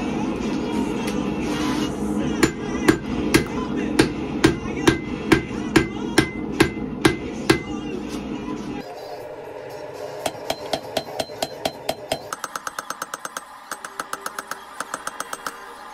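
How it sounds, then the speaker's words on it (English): Hand hammer striking hot steel on an anvil while forging a Viking-style axe head, sharp ringing blows in quick regular runs, with a motor droning beneath the first half. "just moving forward, trying to shape the axe by hand on the anvil"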